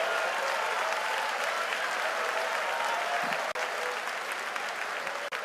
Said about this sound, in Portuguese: Você pode aplaudir o Senhor Jesus da glória